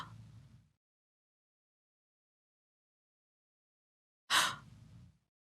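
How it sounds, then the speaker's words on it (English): A short breath sounds at the start, then a long silence while the air is held, then a sharp gasping release near the end, close and alone. "So you gasp and then you hold it and then you release it."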